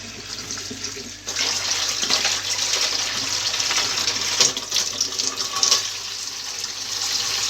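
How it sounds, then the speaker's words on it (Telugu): Running tap water pours steadily over a freshly peeled vegetable being washed in a kitchen, a continuous close gush with small splashing shifts, no voices. "ఇప్పుడు టాప్లో కడిగేస్తాను."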